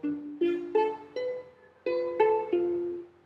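Single notes plucked on a ukulele ring out one after another in a slow riff, seven close, clean attacks in two phrases with a short gap between them, each note left to decay.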